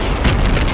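A frag grenade blast in the military shooter Project Reality, a loud, deep, close boom with a rumbling tail over less than a second.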